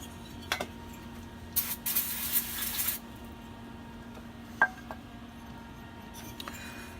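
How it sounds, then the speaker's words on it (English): Cleaner sprayed onto a GX390 engine cylinder head during a custom head build: one hissing aerosol burst of about a second and a half, close and fairly loud, with a few light clinks before and after in an otherwise quiet workshop. "So I just sprayed it down with some cleaner."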